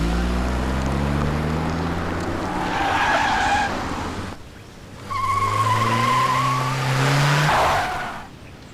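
A car speeds past with a rising engine and tires squealing in long skids, two loud bursts separated by a short lull, with no talking.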